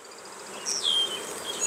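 Honey bees buzz inside an open hive full of honey frames, a close, steady hum with a few higher whines passing by, no voices.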